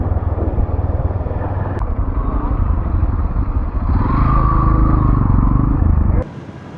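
A motorcycle ride through torrential rain near Kuakata, Bangladesh: a steady, loud engine and road rumble with wind roar runs throughout and grows denser partway through, then drops off abruptly near the end.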